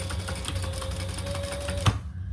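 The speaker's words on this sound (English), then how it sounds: "we're gonna sew those together" A sewing machine stitches bag pieces together, a steady, close mechanical whir that runs for about two seconds and then stops abruptly.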